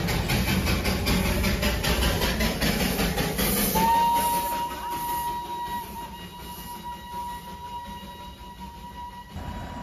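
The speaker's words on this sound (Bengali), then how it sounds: "দার্জিলিংয়ের হেরিটেজ কয়লা চালিত টয় ট্রেনের দেখা তো মিলেছে।" A coal-fired heritage steam toy train in Darjeeling chuffs with steady rhythmic exhaust beats and hiss, then lets out a long, clear steam whistle midway that holds until the end, fairly close and loud with no voices.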